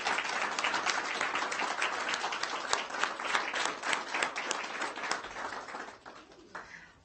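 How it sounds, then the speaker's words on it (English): A school board meeting audience gives a steady round of applause, many hands clapping densely for several seconds before thinning out and fading toward the end. "if all of us can just give them one last round of applause"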